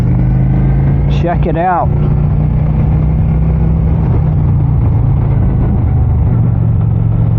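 Honda Phantom motorcycle engine on a night ride, droning steadily at close range with a brief downshift rev near the start while a voice talks over it, then holding a constant engine hum.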